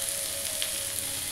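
Cumin paste with chopped green chilli, turmeric and salt sizzles steadily in a pan, a constant close hiss with faint scraping as it is stirred.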